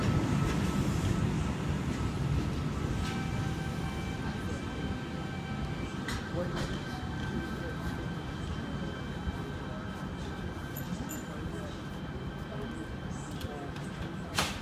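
A Sydney Trains Y set test train at Hornsby station rumbles past with a steady rolling drone, faint wheel and brake squeals, and tonal motor whines, louder at first and easing slightly.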